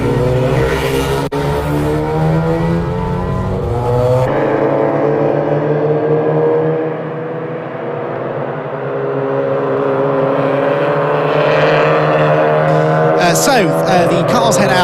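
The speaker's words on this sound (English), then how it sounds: "The cars head out then onto their green flag lap." Mazda MX-5 and Fiesta race cars pull away onto the green flag lap at Croft, engines loud and droning together as the pack passes close, easing off slightly midway before rising again, with a commentator talking over them.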